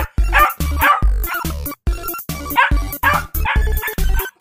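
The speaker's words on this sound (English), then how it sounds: "Dog." Repeated dog barks in short rhythmic bursts, loud and close, in an animal-sound guessing game, with some speech-like quality mixed in.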